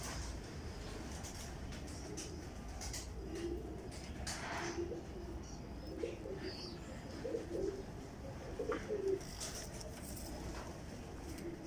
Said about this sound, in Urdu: بڑے پرانے کبوتر ہیں میرے پاس